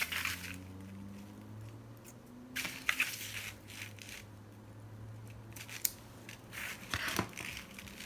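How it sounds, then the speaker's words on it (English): Several sharp snipping and crunching bursts of poor-quality scissors cutting material, irregular and close, over a quiet low hum. "Oh, these scissors are no good."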